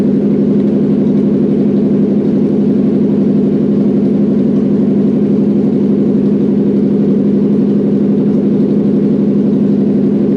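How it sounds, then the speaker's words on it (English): Toyota 1UZ VVTi V8 engine idling steadily in a 4x4 trail truck, a loud, even low rumble holding constant without revving, close up and with no talking. "It's running, sounding great, all cylinders working, alternator's charging"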